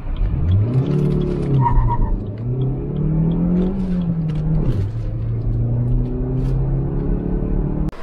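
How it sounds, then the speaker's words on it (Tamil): A 2022 Suzuki Baleno Zeta manual hatchback accelerates through its gears, the engine note rising in pitch, dropping at each shift, then climbing again as a steady loud drone heard from inside the cabin. "அந்த காரை வந்து நம்ம டிரைவ் பண்ணி பார்த்துடலாம்"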